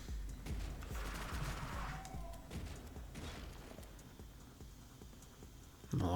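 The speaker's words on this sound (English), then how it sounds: "Get the AK going." AK rifle fire in a video game: a dense, continuous rattle of rapid automatic shots, loud and close, gradually thinning out toward the end, followed by a brief low thump.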